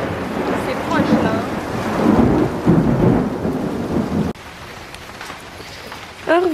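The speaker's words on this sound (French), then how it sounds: "C'était trop beau et il pleut encore." Rain falls steadily outdoors with rumbling thunder close by, the roar cutting to a quieter downpour partway through; a few faint voices are heard briefly near the end.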